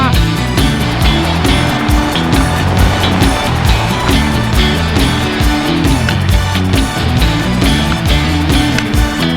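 A Royal Enfield Himalayan 450 motorcycle accelerating on a road near Leh, loud and close, with a continuous engine drone heavily buffeted by wind rush throughout.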